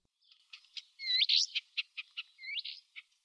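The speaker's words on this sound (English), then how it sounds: "A little bit of bird sound can be heard over those hills." Birds chirp and trill over hills in an apricot-growing region, a series of short, bright notes with a few rising whistles, fairly faint and distant against a quiet background.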